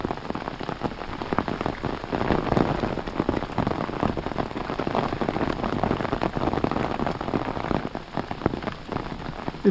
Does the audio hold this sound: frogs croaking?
no